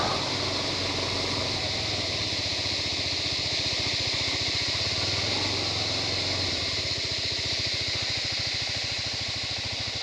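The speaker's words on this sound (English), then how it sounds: "Oh, there's a lot of insects making that noise." A dense, steady drone of insects fills a wooded hillside on Phulchowki Hill near Kathmandu, Nepal. It is loud and unbroken, like an idling engine, with no voices.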